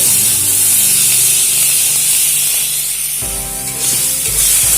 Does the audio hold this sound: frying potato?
yes